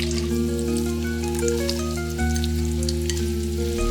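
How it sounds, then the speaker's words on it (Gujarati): Onions fry in half a cup of hot cooking oil over a medium gas flame, giving a steady crackling sizzle with scattered pops over a constant low hum throughout. "મીડિયમ ગેસ ઉપર ઓઇલ થોડું ગરમ થાય એટલે આપણે આપણી ઓનિયનને લઈએ."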